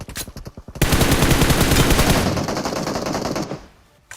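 Sustained automatic gunfire in a mobile battle-royale video game fight, a loud continuous burst of rapid shots after a few scattered opening rounds, tapering and fading out near the end, with no talk over it.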